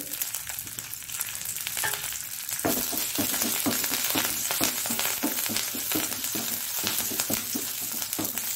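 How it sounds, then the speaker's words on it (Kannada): Chutney ingredients fry on a low flame, a steady broadband sizzle throughout with a run of soft stirring scrapes and taps in the second half, close and alone without any voice. "ಸಣ್ಣ ಉರಿಯಲ್ಲಿ ಹುರಿದುಕೊಳ್ಬೇಕು"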